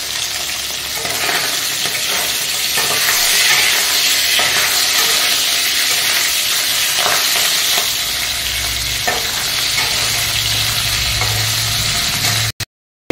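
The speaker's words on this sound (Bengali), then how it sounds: "আমি বেশি কড়া করে ভাজবো না, হালকা করেই ভাজবো" Hilsa fish heads fry lightly in hot oil, a steady close sizzle and crackle running throughout with occasional stirring, then cutting off abruptly at the end.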